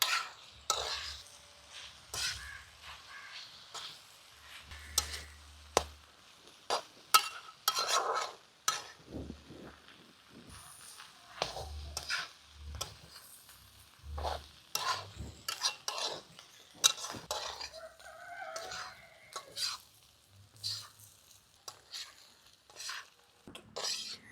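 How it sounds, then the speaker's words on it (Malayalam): Beef tripe frying for Thattukada-style boti fry, stirred over a medium flame: irregular metal scrapes and clinks of a utensil against the pan over a faint sizzle, with occasional low thumps. "നമുക്കൊരു മീഡിയം ഫ്ലെയിമിലേക്ക് ഇട്ടിട്ട് നന്നായിട്ട് മിക്സ് ചെയ്ത് എടുക്കാം"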